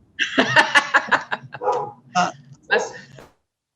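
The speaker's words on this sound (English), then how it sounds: "That's my dog. Sorry about that." A dog barks repeatedly in quick bursts, loud and close, with a few separate barks spaced out toward the end.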